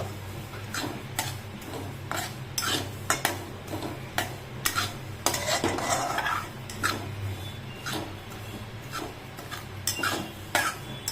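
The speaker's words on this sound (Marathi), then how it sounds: "अशी तडतडायला लागली का लगेच काढून घ्यायची ती पण लवकर भाजल्या जाते आणि आपलं तर कढई पण गरम आहे" Seeds roast dry in a hot kadhai for dry-fruit laddu, with rhythmic sharp clicks and scrapes of stirring over faint crackling and a low background hum, close and fairly steady throughout.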